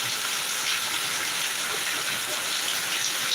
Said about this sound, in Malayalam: ഇവിടെ അടിപൊളി മഴ നല്ല കിരുത മഴ